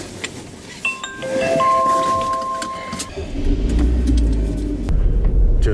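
Car driving on an icy road covered with fresh snow: a rising low engine rumble with road noise and scattered clicks and tones inside the cabin, growing louder toward the end.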